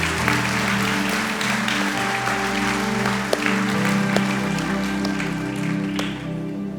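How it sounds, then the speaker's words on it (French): Steady applause from a church congregation as a hand clap of praise during a sermon, a dense continuous patter of many hands filling the room at even loudness, with a sustained musical tone beneath. "God, that is a hand clap of praise for your messages to our hearts"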